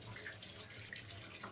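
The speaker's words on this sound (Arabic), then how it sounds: "انا بحب اغسله كده تحت الحنفية اهو" Tap water runs quietly into a kitchen sink while a fish is rinsed under it, a soft continuous splashing with faint shifts as the stream hits the fish.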